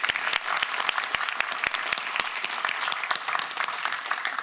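Audience applause for a panel at a conference, steady close clapping from a modest crowd with sharp individual claps standing out, continuing for several seconds with no talk.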